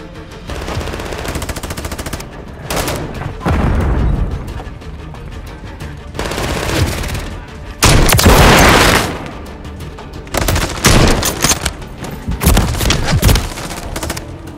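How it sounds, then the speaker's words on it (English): Heavy video-game gunfire from Call of Duty: loud automatic bursts and sharp shots in repeated volleys with booming impacts, dense and close throughout, with no talk. "Taking effective fire!"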